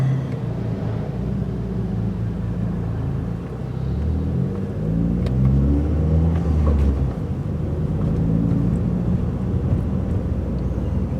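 A Chevy car cruises slowly through a parking lot on a drive to work, its engine a steady low rumble that swells and eases from inside the cabin, with no talk.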